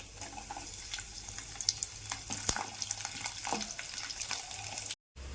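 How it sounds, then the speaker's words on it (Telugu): Tempering spices and garlic sizzle and crackle in hot oil, a steady frying hiss dotted with sharp pops, with no voices. "తాలింపు దినుసులు వేగినాయండి."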